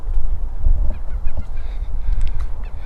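A goose sitting on a nest among willows honks repeatedly in short, loud, nearby calls, with a low ambient rumble underneath.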